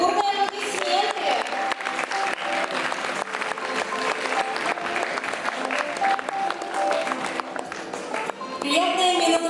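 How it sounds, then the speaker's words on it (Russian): Sustained applause from a hall audience at a lyceum anniversary celebration, dense steady clapping that runs on and swells slightly near the end, with music faintly underneath. "Под ваши бурные аплодисменты."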